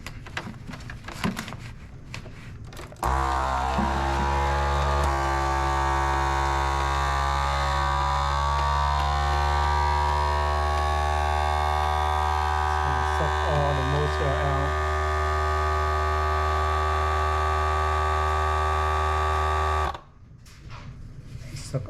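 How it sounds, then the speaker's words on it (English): A vacuum sealer hums steadily for about seventeen seconds, pumping air from a bag of alligator gar fillets on its moist setting. It starts and stops abruptly, with quieter handling noise before and after. "we're gonna vacuum seal these fillet"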